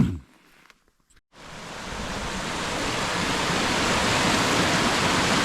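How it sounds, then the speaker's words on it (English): The Falls of Rha on the River Rha in Scotland, a broad, steady roar of falling water that swells in after a brief quiet moment and holds loud and constant. "Quick stop here at a waterfall called the Falls of Rha."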